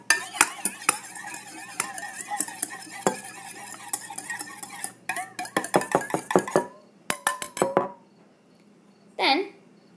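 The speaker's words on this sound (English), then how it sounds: "we're going to whisk it up with our baby whisk" An egg is whisked in a small bowl with a small baby whisk, giving rapid close clattering taps against the bowl for several seconds, then a few final strokes before it stops and a brief voice sounds.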